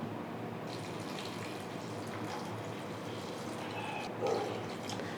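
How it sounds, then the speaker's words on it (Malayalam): Water pours steadily into a pot of chopped raw mango seasoned with turmeric and salt, a continuous close hiss and splash with a slight surge near the end and no talking. "കുറച്ച് വെള്ളം ഒഴിച്ചു കൊടുക്കാം"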